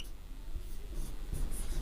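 Chalk or marker writing on a board during a maths lesson, a steady soft scratching and scraping of short strokes close by, alone with no speech.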